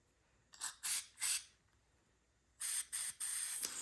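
A can of carburetor cleaner sprays in short hissing bursts on a Tecumseh 5 hp snow blower engine, three quick blasts followed after a pause by three more, close and loud.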